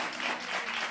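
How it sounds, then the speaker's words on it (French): A brief burst of audience applause and cheering on a French live show, a dense, even wash of clapping lasting under a second. "les acclamations du public."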